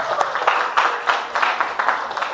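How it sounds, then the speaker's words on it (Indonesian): Children in a classroom clap together for a short stretch, a steady patter of small hands with a few louder bursts, fairly close and without talk over it. "Wah tepuk tangan dulu buat kalian."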